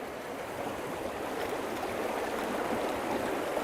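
Steady rushing of Deschutes River water tumbling over shallow riffles, a continuous broadband wash that stays even and fairly close throughout, with no voices.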